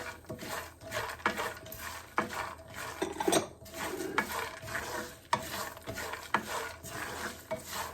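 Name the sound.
mixing ingredients together in a bowl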